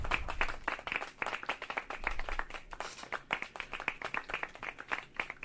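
Quiet applause and hand clapping from a small group, a rapid stream of sharp claps that swells and thins slightly, fairly faint and steady, with no talk over it.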